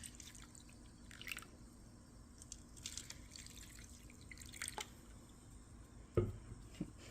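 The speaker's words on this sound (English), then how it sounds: "I like to watch it and listen to the air bubbles" Bone-dry clay soaking in water to become slip gives off faint, sporadic pops, drips and ticks of escaping air bubbles over a low, steady background hum.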